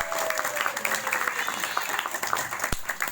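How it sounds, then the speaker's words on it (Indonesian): Audience applause at a Balinese bondres comedy performance with gong ensemble, a sustained stretch of crowd clapping with scattered voices and a sharp knock near the end. "Tepuk tangan."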